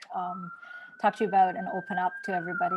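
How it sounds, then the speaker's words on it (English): A steady siren tone holds in the background, wailing faintly at a near-constant pitch while a person speaks over it. "Sorry for the siren in the background."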